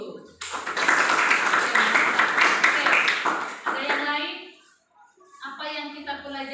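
Seventh-grade students in a classroom burst into a loud round of hand clapping lasting a few seconds, then it stops and a voice speaks afterward.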